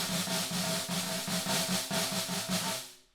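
Snare drum press rolls played with too much force: about half a dozen evenly spaced, harsh buzzing strokes cut off abruptly rather than sustaining, before fading out.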